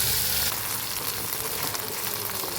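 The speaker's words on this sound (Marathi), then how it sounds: "शेंगाला तेलात थोडा वेळ भाजून घेऊया।" Drumstick pods fry in hot oil in a pan with a steady, fairly quiet sizzle and crackle that runs throughout.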